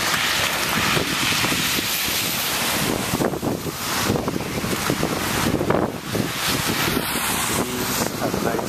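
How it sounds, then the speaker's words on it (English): Strong wind roars steadily across an open area of New York City during a November snowstorm, a loud continuous gusting rush that swells and eases. "The wind is really blowing here."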